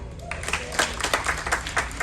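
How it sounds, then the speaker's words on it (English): Passengers aboard a cruise ship clap for the host, a short burst of sharp, scattered hand claps that quickly becomes an uneven ripple of applause over faint background hum. "give me a clap"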